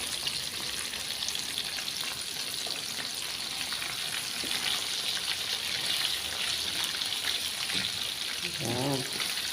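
Fish fries in a pan with a steady, close sizzle and crackle that runs the whole time, with a few brief scraping or turning noises near the end.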